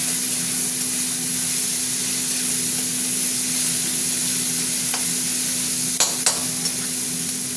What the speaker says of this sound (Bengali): মশলাটা ভালো করে ভাজা ভাজা করবে